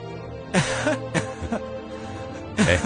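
Someone coughs and clears their throat a few times in rough, husky bursts, close up, with short pauses in between.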